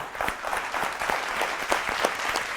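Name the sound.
audience applause for the singer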